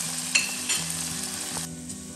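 Pork meat frying with garlic in a pan, a steady close sizzle with occasional stirring scrapes, no talk over it.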